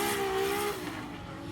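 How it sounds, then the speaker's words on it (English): A Formula Drift car doing a burnout in the burnout box, heard as a loud, close, sustained engine roar with screeching tire noise, the pitch dropping slightly midway. "Big burnout at the end, getting lots of heat in the tire."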